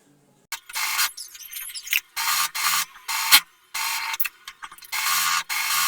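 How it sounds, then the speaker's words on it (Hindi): A sewing machine stitches the side corners of a dress neckline in a run of short bursts, each burst a steady, close whirring rattle broken by brief pauses and small clicks. "अब मैं इसके साइड पर सिलाई कर दूंगी"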